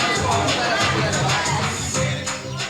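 Arriving crowd at a 1999 high school basketball game in Kentucky: a steady, dense murmur of many voices filling a gym, loud and continuous with occasional squeaks, under someone talking.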